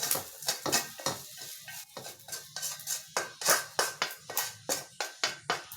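Fried rice stir-fried in a pan, with a metal spatula scraping and clanking in a steady rhythm over a continuous sizzle, close and fairly loud with no talking.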